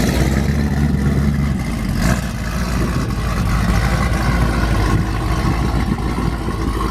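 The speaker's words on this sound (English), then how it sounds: "We got a cold start over on this Z01." A Z01 muscle car at a car meet, cold-started and running with a loud, steady, deep exhaust rumble that holds throughout at close range, with no talking.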